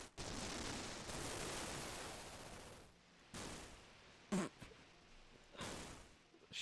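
A corrupted GameCube BIOS spits out a glitchy noise like gunfire: harsh bursts of static-like noise separated by short silences, with one sharp pop in the middle, moderately loud.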